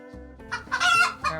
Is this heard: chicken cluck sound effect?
yes